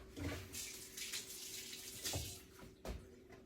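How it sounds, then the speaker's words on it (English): Tap water runs steadily over a hand being rinsed in a home kitchen while a tortilla pizza is being made, a continuous close splashing hiss with no talking. "Let me rinse my hand."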